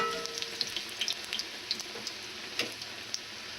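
Churros frying in hot oil, a soft steady sizzle with scattered small pops and crackles, quiet and close, no voices.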